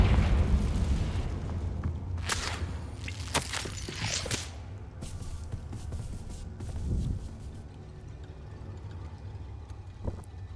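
Confringo spell explosions in Hogwarts Legacy during a fight with spiders, with several booming bursts and crackles over a steady rumbling game background.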